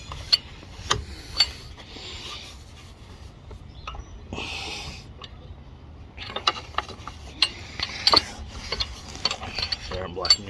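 Socket wrench clicking as it ratchets on the spark plug of a Ferris 52 walk-behind mower with a 26 HP Briggs and Stratton engine, bursts of close ratchet ticks and scraping metal in short runs, no talk.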